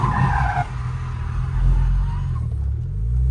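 A Volkswagen Jetta TSI Stage 3 skids and drifts, its tires squealing over a loud rumbling engine close by.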